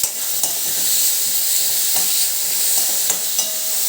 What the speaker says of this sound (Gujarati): અમે એક મોટી સાઈઝની ડુંગળીને ચોપરમાં ચોપ કરી લીધી છે તે એડ કરી દઈશું